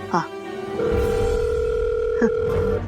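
A steady electronic phone ringback tone over a speakerphone, fairly loud, with brief bits of a voice at the start and near the end.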